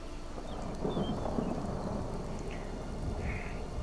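Steady rain with a low thunder rumble in a heavily modded Skyrim game world, a continuous dense wash at even loudness throughout, with no voices.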